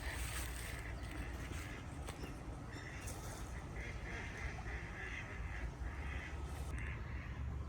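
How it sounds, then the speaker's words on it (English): Startled ducks quacking on a lake in Cambridge, New Zealand, a run of repeated nasal quacks at moderate distance over a steady outdoor background, with a little splashing. "Looks like I just scared the ducks who I've come to visit at this lake."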